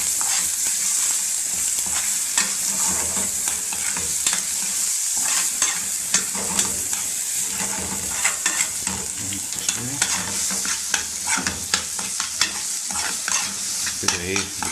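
Eggs frying in a pan for shakshuka are stirred steadily: a continuous close sizzle with repeated scraping strokes of the spoon throughout, and no talking.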